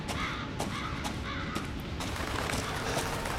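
Crows caw in repeated harsh calls within the video game Resident Evil 7, set against a dense, noisy outdoor ambience that stays loud throughout.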